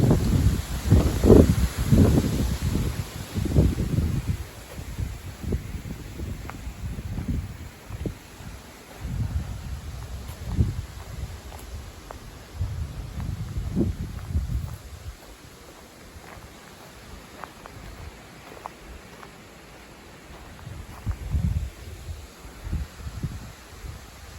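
Strong wind buffets the microphone in heavy rumbling gusts that rise and fade, strongest at the start, with a constant hiss underneath.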